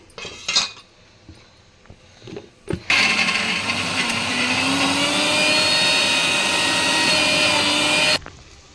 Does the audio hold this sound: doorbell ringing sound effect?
no